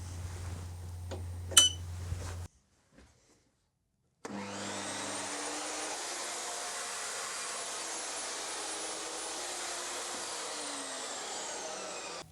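A 620-watt workshop vacuum runs on battery power. After a few brief knocks and a short silence it starts up and holds a loud, steady whooshing roar with a high whine until the end.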